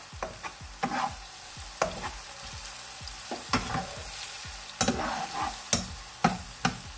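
Garlic and ginger paste sizzles quietly in a pan while a utensil stirs it, making irregular sharp scrapes and clinks against the metal. No voices are heard.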